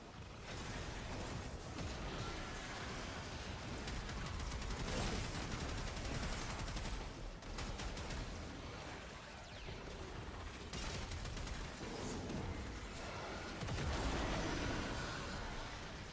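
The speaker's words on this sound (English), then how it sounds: "Oh, it has auto fire." Automatic gunfire in a video game rattles in dense, continuous bursts throughout, loud and close, with brief dips between volleys.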